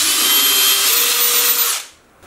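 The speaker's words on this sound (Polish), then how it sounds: "Wiertło 8." Electric drill boring with an 8 mm bit while building a DIY modelling paint-spray extractor, a loud steady high whine for nearly two seconds that then cuts off to near silence.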